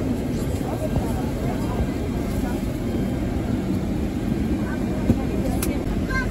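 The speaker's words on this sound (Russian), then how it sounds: "Смотри, самолет на посадку идет." Near Almaty, an airliner comes in to land with a broad, continuous roar that fills the scene and stays steady throughout, while voices murmur faintly beneath it.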